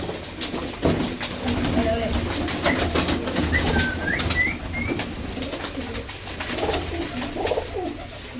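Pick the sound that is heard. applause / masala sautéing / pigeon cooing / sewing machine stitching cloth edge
pigeon cooing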